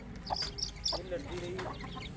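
Chickens cluck softly and intermittently close by, with short high calls over a steady background murmur.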